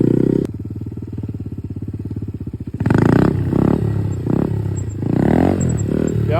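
A motorcycle engine revs hard during circle wheelie practice, a loud close throttle drone that drops, then surges again in repeated uneven bursts.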